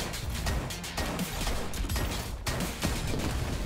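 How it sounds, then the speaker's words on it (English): Rapid, crackling blasts and gunfire-like bursts from the Roboquest video game, a dense, continuous barrage of pops and thuds lasting a few seconds. "Those were some pixely ass explosions."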